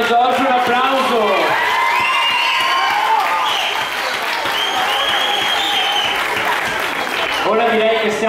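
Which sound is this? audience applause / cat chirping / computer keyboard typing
audience applause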